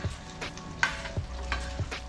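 A spoon stirs a cup of rice into boiling water in a cooking pot, giving a few scattered scraping and clinking strokes over a low bubbling hiss, fairly quiet, with no one speaking.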